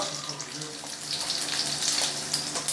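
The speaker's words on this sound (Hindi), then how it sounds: "और अब हम इसमें शामिल करेंगे जी तकरीबन आधा चम्मच सफ़ेद ज़ीरा।" Cumin seeds and green chillies in hot oil give a steady, bright sizzle that crackles continuously at close range and moderate volume, with no talking over it.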